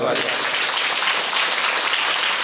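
Loud, dense clapping from a women's audience at a kirtan gathering, sustained evenly through the whole stretch with no pauses.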